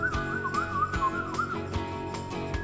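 A person whistles a wavering, sliding tune over a steady rhythmic backing of music, the whistle clear and up front throughout.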